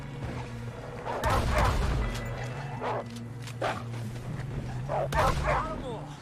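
Dogs barking in the video game Red Dead Redemption 2, several sharp yelping barks in short bursts over a steady game soundscape, with a low background hum.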